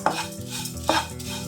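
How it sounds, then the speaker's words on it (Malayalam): Two cups of red matta rice flakes (aval) dry-roast in a pan, with two distinct scraping stir strokes of a spatula over a soft rustle, close and without speech. "ഇനി അവല് വറുത്തെടുക്കാം രണ്ട് കപ്പ് മട്ട റൈസിൻ്റെ അവലാണ് എടുത്തിരിക്കുന്നത് വറുത്തെടുക്കാം"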